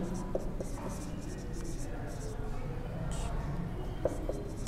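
Chalk or marker scratching across a board during a physics lecture on circular motion, steady faint strokes continuing over low room noise with occasional soft taps.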